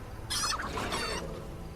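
A chicken unit in the fantasy strategy game Age of Wonders III gives a short burst of squawking clucks, two quick raspy calls over faint background game ambience.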